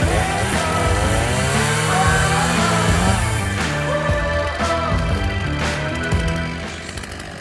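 A chainsaw bucks a felled tree into firewood lengths, running loud and close at steady high revs that bog slightly under load before easing off near the end.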